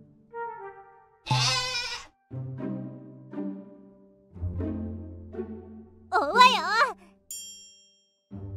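Video game goat bleats from Vampires Melody 2, several short wavering cries spaced across the passage, with a brief chime-like jingle near the end.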